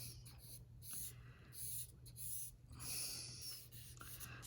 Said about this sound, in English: I'm drawing a bottle